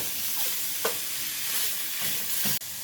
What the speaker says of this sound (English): We get our meat down in there. It'll start to sizzle and cook